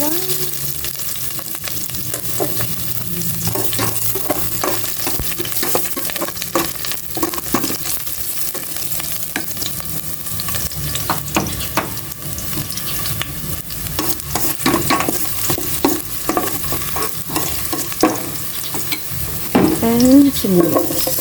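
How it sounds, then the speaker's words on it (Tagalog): Garlic sautéing in a hot pan gives a steady, close sizzle with frequent stirring clicks and scrapes, getting slightly louder near the end, with no talking. "Maggisa na po ako ng bawang."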